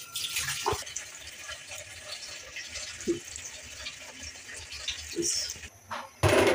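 Running tap water splashes over hands being washed at a home kitchen sink during cooking. The flow is steady and close, with brief louder splashes and a sharp rise near the end.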